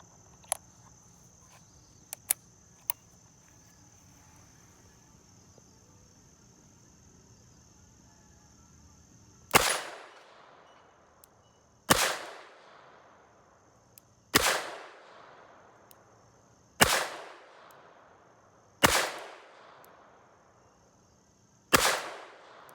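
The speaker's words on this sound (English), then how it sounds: "And we're going to be shooting right now 158 grain. These are lead round nose bullets" Six sharp, loud gunshots from a Smith & Wesson Model 15-3 revolver firing 158 grain lead round nose bullets. They come at a steady pace about two seconds apart, each with a ringing decay, after a quiet stretch with a few faint clicks.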